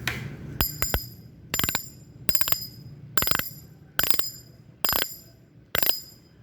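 A modified fishing reel clicker spun by hand gives sharp metallic clicking bursts in a steady rhythm, about eight evenly spaced ratchet runs, close and alone.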